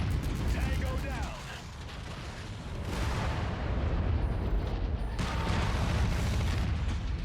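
Heavy blasts and rumbling bursts of gunfire and an ammo explosion in a mercenary shooter game, loud and dense with swelling booms, with a voice briefly speaking over the din.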